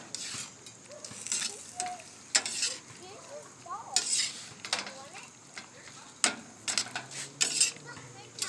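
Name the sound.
tossing cooked shrimp in a pan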